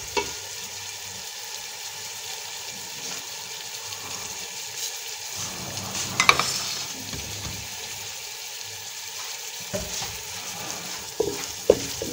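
Ginger-garlic paste fries in a pan, a soft steady sizzle with occasional stirring scrapes and clinks, close and fairly quiet.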